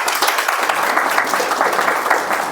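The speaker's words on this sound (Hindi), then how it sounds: "प्रांजल प्रभु जी के लिए एक बार तालियां बजाइए।" An audience at a devotional talk claps for a young participant, loud close applause with dense steady claps throughout.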